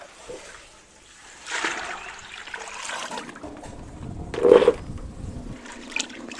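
Water pours and trickles into a container with some splashing, moderately loud, followed by quieter sloshing as it mixes into a feed for aloe vera plants.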